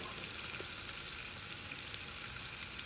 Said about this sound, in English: I already hear it cooking